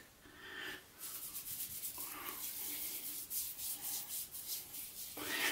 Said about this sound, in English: I'm gonna put the brush into a bowl to the side, get this excess proto lather real quick